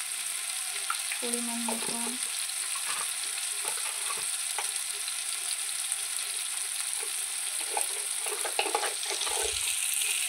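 Spices frying with chilli powder, turmeric and salt for a pangas fish curry, a loud continuous sizzle with stirring scrapes. A brief voice briefly speaks at the start.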